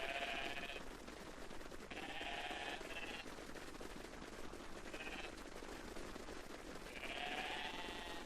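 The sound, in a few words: sheep bleating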